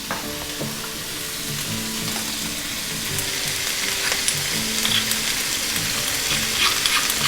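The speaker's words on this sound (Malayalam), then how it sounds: "ഇനി ഇതൊരു ഇളം ബ്രൗൺ നിറമാകുന്നവരൊന്ന് ഇളക്കി കൊടുക്കുക കേട്ടോ." Onions frying with ginger garlic paste, made from crushed garlic cloves and ginger, for a Kerala-style mutton stew, hiss in a steady broadband sizzle while being stirred, with low scraping and clinking strokes throughout.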